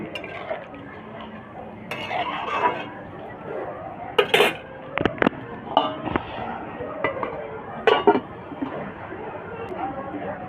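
Egg and potato curry is stirred in a pan and then covered: a spoon scrapes and clinks against the metal, followed by several sharp clanks as the lid goes on, all close by.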